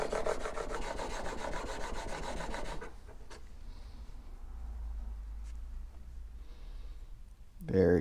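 A Harbor Freight chisel bevel is honed on a sharpening surface in a honing guide, producing rapid, steady scraping strokes for a few seconds before quieter handling and a final clunk.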